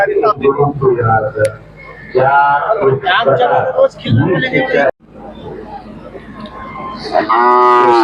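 A Khillar cow lets out a loud, drawn-out moo near the end, after stretches of people talking close by amid outdoor chatter at a cattle show during a temple fair.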